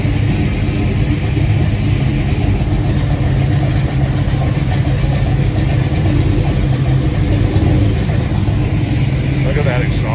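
Chevrolet Chevelle engine idling at an outdoor car show, a loud, steady low rumble with a rough exhaust burble throughout, crowd noise and faint voices in the background.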